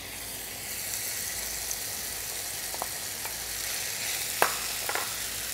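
Onions go into a pot of fried bones and sizzle in a steady hiss, with a few soft clicks of utensils against the pot and no talking.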